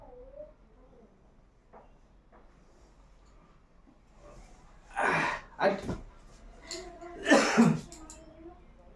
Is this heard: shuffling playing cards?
no